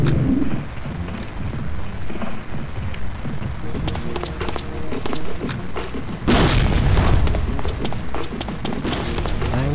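Grenades explode in the video game Black Shades, a sharp loud boom bursting out partway through amid ongoing game noise and scattered clicks, with no speech over it.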